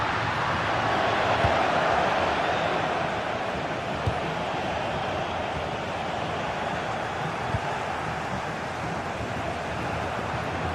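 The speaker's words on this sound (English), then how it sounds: "The crowd certainly think so. Just listen to them." A football stadium crowd during a tense, level match in a sports league broadcast roars as a steady, dense wash of massed voices, broad and continuous with no single standout shout.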